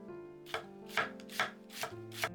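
A mukimono knife chops the green part of an onion on a cutting board, five distinct crisp strikes in a fairly even rhythm, close and quiet, with faint background hum and no voices.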